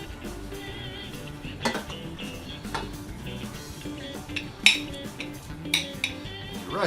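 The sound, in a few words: serving rice onto a plate with a utensil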